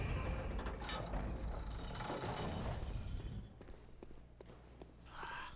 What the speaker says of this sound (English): Yet another elevator.